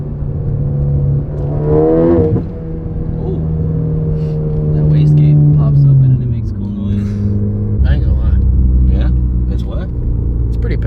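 A Ford Focus ST with a Tomei exhaust drones and revs up and down up close, its engine note shifting pitch, while people talk over it and brief popping bursts sound from the wastegate.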